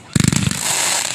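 A July 4th 2021 fireworks show at a fly-in café: a quick run of loud crackling bursts, then a lingering hissing fizz as the shells fade.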